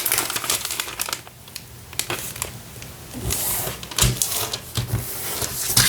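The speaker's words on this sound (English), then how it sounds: "we're gonna fold this side to the center." Paper being folded for an origami card gives near, close crinkles and sharp creasing swipes, with irregular rustles and pressing sounds rising and falling throughout.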